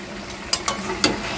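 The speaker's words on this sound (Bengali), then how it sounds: "সমস্ত উপকরণগুলো আমি খুন্তির সাহায্যে খুব ভালো করে নেড়ে চেড়ে মিশিয়ে নিচ্ছি।" Spatula stirring a pan of frying ingredients with turmeric, chilli powder and a pinch of sugar for Bengali ilish fish-head kochu shaak: a soft frying hiss with three sharp scraping strokes spaced across a short stretch.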